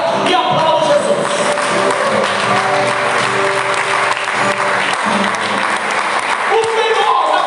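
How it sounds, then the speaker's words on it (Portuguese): A church congregation applauds Jesus during a service, with steady, loud and dense clapping from many hands throughout, and a preacher's voice is heard alongside it. "abra lá um sorriso mesmo de trás dessa máscara e aplauda Jesus."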